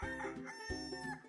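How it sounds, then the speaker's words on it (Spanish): A rooster crows nearby in two clear, ringing bursts, each a strained harmonic call with a short pause between them. "Gallo,"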